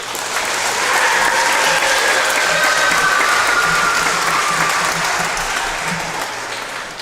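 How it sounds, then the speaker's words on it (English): A crowd gives a long, loud round of applause for the 2023 Hettinger High School Homecoming Court at a homecoming coronation, with dense, steady clapping that swells early, holds, and eases slightly at the end. "Let's have one more big final round of applause for our 2023 Hettinger High School"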